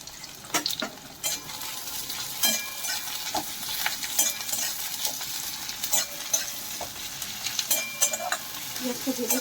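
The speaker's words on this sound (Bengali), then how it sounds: "পেঁয়াজটা ভেজে দিচ্ছি" Chopped onions fry in oil in a pan, giving a steady soft sizzle, while a spatula or spoon stirs them and scrapes the pan with repeated small clinks and scratches, fairly quiet and close.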